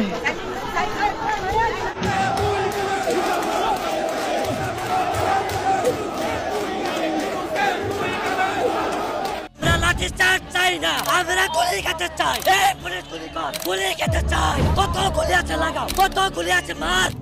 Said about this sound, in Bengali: বুয়া বুয়া স্লোগান